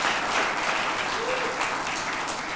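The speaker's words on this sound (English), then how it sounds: "Please give them another round of applause." Studio audience applause on a Nigerian TV talk show, a dense, even wash of clapping that holds steady for the whole stretch at moderate loudness, with no talking over it.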